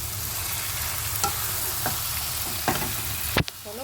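Cabbage stir-fried in oil with a cooked-down spice masala makes a steady sizzle with several stirring scrapes, a sharp clatter near the end, all close and alone.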